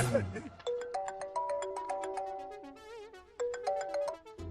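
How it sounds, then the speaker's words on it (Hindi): A phone ringtone plays a bright melodic electronic tune of repeated chiming notes, loud and clear for several seconds with brief pauses, while voices are heard briefly at the start. "रामू चाचा का फोन है, अगर बात कर लो"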